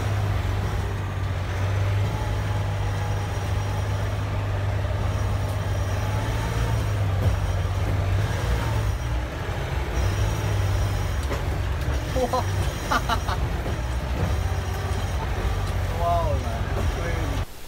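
A Sherp N 1200 all-terrain vehicle engine accelerates as a steady, loud low drone that holds throughout, with people talking over it.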